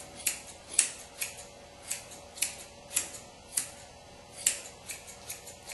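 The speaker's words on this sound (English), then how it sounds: "And trim in a shape to our dog." Curved grooming scissors trim a dog's coat in a quick, even run of crisp snips, about two per second, close and clear with no talking.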